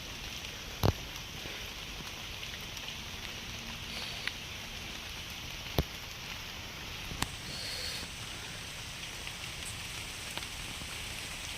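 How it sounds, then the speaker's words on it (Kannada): Heavy rain falls steadily outdoors, a dense, even hiss with a few sharp taps and knocks scattered through it and no voices. "ಆ ರೇಂಜಿಗೆ ಮಳೆ ಸೈಕಾಗಿ ಹೊಡಿತಿದೆ ಫ್ರೆಂಡ್ಸ್"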